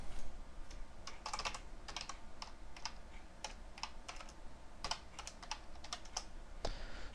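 Keystrokes on a computer keyboard while C# classes are written, steady irregular clicking and tapping in bursts across the whole stretch, close and moderately loud with no talking.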